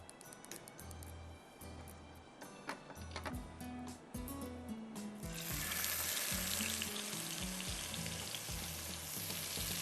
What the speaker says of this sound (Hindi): इसको बस ज़्यादा फ्राई नहीं करना है, 2 मिनट फ्राई करूँगी और निकाल लूँगी